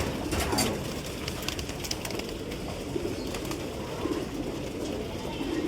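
Low, soft cooing of pigeons, including a khaki pigeon, repeats through the whole stretch over a steady background rustle, with no voices.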